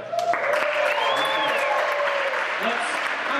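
Audience applause at an evening family camp show, steady clapping filling the room throughout, with some voices and whistling mixed in.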